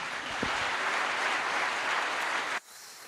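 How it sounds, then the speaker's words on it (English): Conference audience clapping for named speakers, a steady moderate burst of many hands that cuts off abruptly near the end, leaving quiet room tone. "A big round of applause for Stefano Crotta, Attila Petterfy, Elisa Riviera,"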